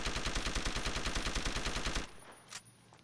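Rapid automatic machine pistol fire in Deus Ex: Human Revolution, a dense burst of evenly spaced loud shots for two seconds, then cut off into quieter ambient game noise with a faint sharp hit.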